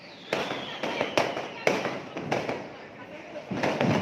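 Diwali firecrackers burst in a rapid, irregular string of sharp cracks and bangs, about eight loud reports close by, with voices of people in the background.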